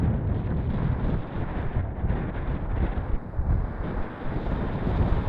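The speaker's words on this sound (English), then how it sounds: "Quite a lot of wind." Strong wind buffets the microphone in a steady, loud roar on an open slope where an ASW 28 model glider is flown, continuous with no voices.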